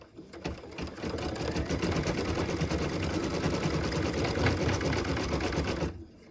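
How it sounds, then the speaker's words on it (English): An embroidery machine stitches a small bird's beak design, a steady fast mechanical whirring chatter running continuously at moderate level before stopping abruptly near the end. "we'll put it in our machine and stitch the cute little beak"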